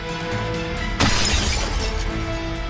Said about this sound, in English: The tempered glass in front of you suddenly explodes.